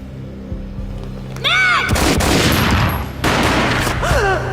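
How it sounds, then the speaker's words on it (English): Booming gunfire bursts with a loud, sustained rumble, mixed with rising synthetic whooshes typical of game sound effects, from the video game Max Payne. "A gunshot boomed and she fell down in slow motion."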